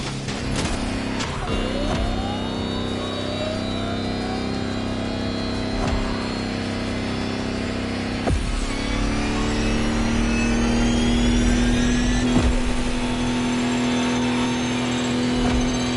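An electric Lamborghini hypercar concept driving in the racing game Motorfest, its smooth rising whine climbing steadily as it accelerates, with a few sharp knocks and a sustained high tone near the end, loud and close.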